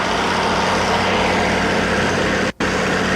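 A truck engine idles steadily on a film set street, a loud, continuous low rumble heard close by, with a brief dropout near the end and no voices.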